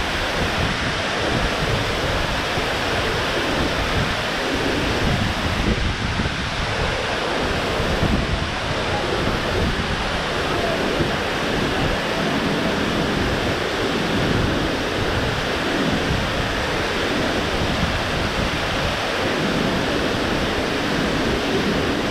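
Spray from the Falling Edge Waterfalls in Kingston, Jamaica, heard up close as a loud, steady broadband roar of falling water and droplets, mixed with wind buffeting the microphone, continuous with no voices.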